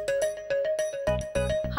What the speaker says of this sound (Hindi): तुम्हारी शैलंटी का फोन है